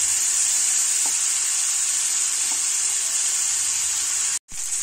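Tomatoes with half a spoon of turmeric powder fry in a pan, a steady close sizzle running throughout with a couple of faint stirring knocks, no voices.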